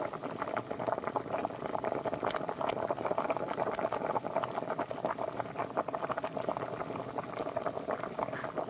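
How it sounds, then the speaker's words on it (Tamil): Rice flour dough for paal kozhukattai is stirred in a pan as hot water is poured in little by little, giving a dense, crackling sizzle and wet patter that continues close and steady with no voices. "கொஞ்சம் கொஞ்சமா தெளிக்கிற அளவுக்கு ஊத்தி, கொஞ்சம் கொஞ்சமா ஊத்தி, இந்த மாரி நல்லா கிளறிக்கணும்"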